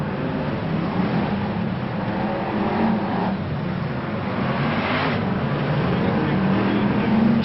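BriSCA Formula 1 stock cars race past at Boston in 1992, their engines a continuous loud roar with rising and falling passes, heard from trackside over the whole stretch.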